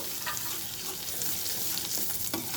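Tempering spices for tomato mint chutney sizzle steadily in hot oil while being stirred, a dense close crackle with occasional scraping strokes of the spoon.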